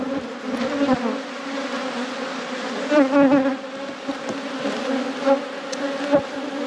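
Honey bees buzz around an open hive in an apiary at peak production, a dense layered hum with individual bees swelling louder as they pass close, nearby and steady without talk.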